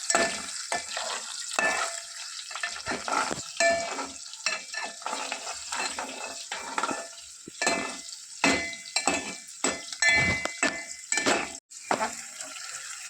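Chopped onion frying with ginger garlic paste in a pan, a steady close sizzle broken by repeated scraping stirs in an uneven rhythm, with no talk over it.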